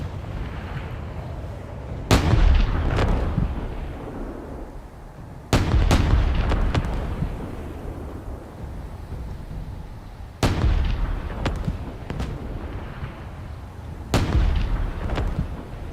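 Artillery firing in the game Space Engineers: four heavy booms spaced a few seconds apart, each with sharp cracks and a long rumbling decay, distant-sounding and with no talk.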